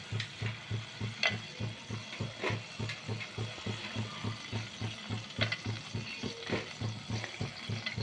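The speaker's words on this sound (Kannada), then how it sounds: "ಇವಾಗ ನಾವು ಗೋಡಂಬಿನ ಹುರ್ಕೊಳ್ಳೋಣ." Cashew nuts sizzle and crackle as they fry in a hot pan for carrot halwa, with steady rhythmic stirring scrapes repeating throughout, close and clear, without any talk.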